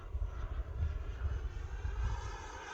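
An E-flite F-16 Falcon 80mm electric ducted-fan RC jet in flight, its steady whooshing roar holding at moderate distance with gentle swells in loudness throughout.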